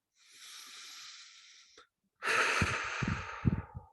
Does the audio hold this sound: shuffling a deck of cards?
no